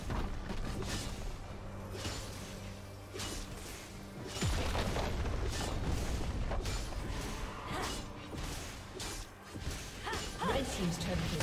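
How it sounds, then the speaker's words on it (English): Crashing booms and whooshes from a turret being destroyed in League of Legends, mixed with game music and effects. A sharp impact lands near the middle and heavy layered sound runs throughout, with an announcer voice over it. "Red team's turret has been destroyed."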